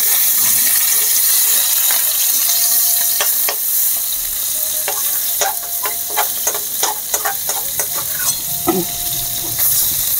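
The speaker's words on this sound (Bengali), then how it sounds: "এদিকে আবার আমার সব মাছগুলোকে করে হালকা ভাজা করা হয়ে গেছে" Fish frying in a pan in a home kitchen, a loud continuous sizzle with repeated sharp clinks and scrapes of a utensil against the pan as pieces are turned and lifted out, no talking.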